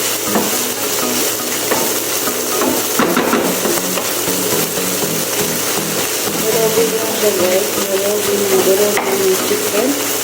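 Chicken kofta sizzles loudly in a frying pan while a utensil stirs it in steady scraping strokes, the frying hiss continuous and close throughout.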